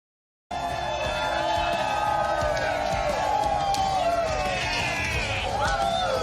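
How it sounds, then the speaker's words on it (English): A political rally crowd in Georgia, cheering, whooping and shouting in a continuous, loud roar that starts abruptly and stays dense throughout. "We got a big crowd here today."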